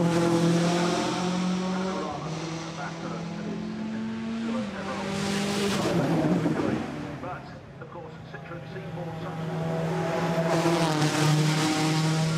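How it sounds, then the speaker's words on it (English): A Citroën C4 WRC rally car once driven to victory by Sébastien Loeb climbs the Goodwood hill, its loud engine rising through gear changes with a brief dip before roaring back, the sound close and dominant. "that was the Citroën C4 WRC car"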